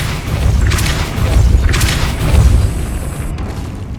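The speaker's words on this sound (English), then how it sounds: "Depulso!" A heavy booming force-spell impact from Hogwarts Legacy on PS5, with a couple of deep thudding blasts in quick succession, loud and close, with no talking.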